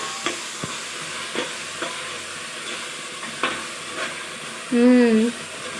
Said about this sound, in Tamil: உப்பை ஆட் பண்ணிவிட்டு மறுபடியும் நல்லா ஒரு பரட்டு விடுங்க